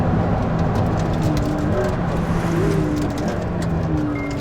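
A McLaren P1 supercar driven hard around the Castle Combe circuit, heard as a loud, constant roar of engine and road noise from inside the car, with faint shifting tones under the rush.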